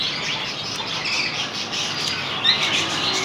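Pet pineapple and green-cheeked conures, sun conures, lories and other parrots chirp in a bird shop, a dense, steady wash of high chattering calls with one sharper squawk standing out.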